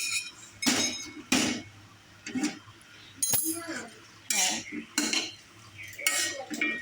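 Spicy curry made with four chillies being served into a bowl at home, with a series of close metallic clinks and scrapes of spoon against pots and dishes in irregular bursts and no talking.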